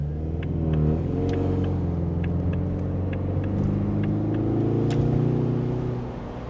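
A Ford Mustang 4-cylinder engine hums with a steady, deep exhaust note while driving, a close, continuous rumble with gentle shifts in pitch and faint ticks over it.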